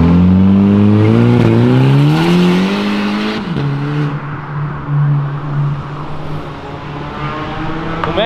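A car leaving a street drift event revs hard, its engine pitch climbing loud and close for several seconds before dropping abruptly to a steady, rough drone as it hits the limiter.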